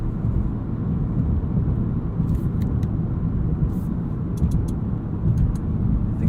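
A 2016 Audi S3 Sedan rolling over a bumpy road, heard from inside as a steady low rumble of road and engine noise with faint light knocks from the bumps.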